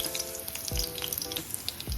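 Dried red chillies fry in a little oil in a kadai for a drumstick rasam tempering, a soft steady sizzle with a few sharper crackles and spoon clinks.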